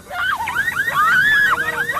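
A car alarm goes off, looping through rapidly warbling, swooping electronic tones that sweep up and down continuously, loud and close with no talking.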